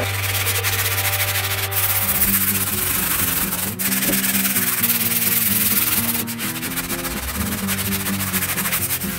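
Steady, continuous rubbing of sandpaper across a paste-coated surface of a Monster Hunter greatsword cosplay prop, a dense scratchy wash with a low hum and brief pauses between strokes.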